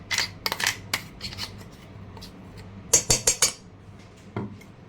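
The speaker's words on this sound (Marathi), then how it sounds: "तर हे आपण मिक्स करून घेऊया." A spoon clinks and scrapes against a bowl while paan ice cream ingredients are mixed, with about a dozen sharp metallic taps and scrapes in irregular clusters, close and moderately loud.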